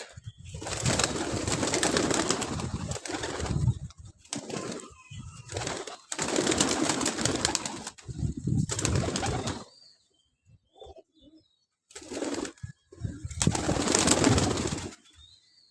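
Pigeons cooing in repeated bursts of throaty calls, close by, with short quiet gaps and some wing flutter between them.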